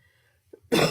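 A single sharp cough from someone with a sore throat and cold breaks out loudly at the end, after a near-silent moment and a small throat sound.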